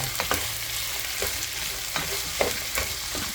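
Pork ribs sautéing in a hot pan, a continuous sizzle broken by sharp scraping knocks of stirring every half second or so, close and fairly loud.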